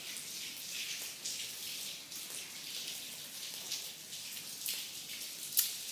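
Light rain falling during a storm in Tenerife, a soft steady patter of drops on a surface, quiet and continuous with a few sharper taps and no voices.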